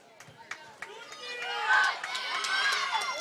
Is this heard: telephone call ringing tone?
no